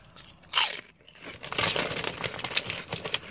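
Hot pork skins from Carolina Country Snacks crunch and crackle between the teeth in a few close, crisp bursts, with softer chewing in between.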